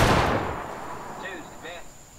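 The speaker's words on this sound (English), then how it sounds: "ones at the left oblique, aim. Fire." A massed musket volley in War of Rights, a Civil War-era game, bursts as one sharp crack at the start and fades into a long decaying rumble, followed by faint metallic clinks of reloading.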